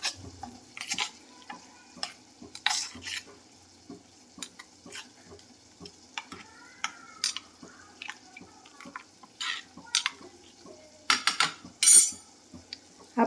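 A spoon stirs chickpea curry masala of red chili paste, roasted cumin powder, garam masala and chaat masala in a pan, giving quiet, irregular metallic clinks and soft scrapes with brief pauses between strokes and no voices.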